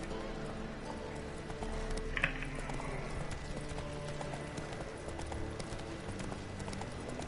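In the video game Witcher 3, a horse's hooves clip-clop steadily at moderate distance, with an occasional whinny and a faint background soundscape.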